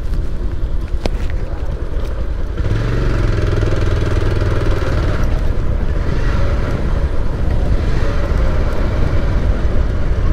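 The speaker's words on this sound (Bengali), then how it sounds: "আবার আসছি ওনার বাইকে করেই" A motorcycle rides along a road between Lohagara and Adhunagar, its engine droning steadily and loudly from up close with heavy wind rumble throughout, no talk.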